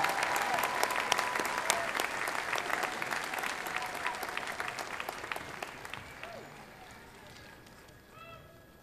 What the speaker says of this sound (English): I ask you once again to join me in applauding the graduates of the School of Liberal Arts.